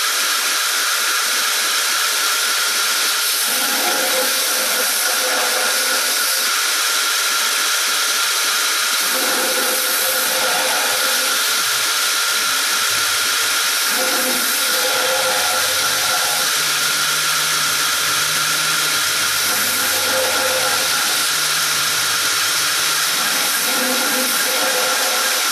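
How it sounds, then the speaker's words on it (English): A power sander grinding through tape on the spine of a handmade knife during handle work, a loud continuous whine that runs unbroken and close, with slight shifts in pitch as pressure changes. "I'm just going to sand right through that tape."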